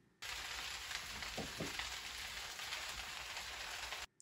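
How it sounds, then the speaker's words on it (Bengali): Boiled noodles and vegetables are stir-fried in a pan, a steady loud hiss running throughout with a couple of soft scraping stirs partway in. "এখন সব কিছুকে একসাথে নেড়ে চেড়ে ভালো মতো মিক্স করে নিচ্ছি"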